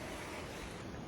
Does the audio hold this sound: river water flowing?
yes